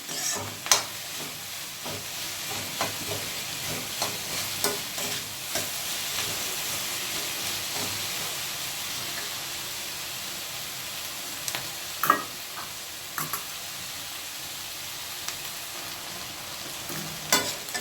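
Okra stir-frying in a pan, a continuous soft sizzle with frequent scraping and clinking of a spatula being stirred through, moderately close and steady.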